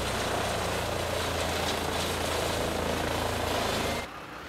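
A wood chipper in the Farming Simulator 2015 game runs with a loud, steady, droning engine roar that holds unbroken for several seconds, then drops abruptly to a lower hum at the end.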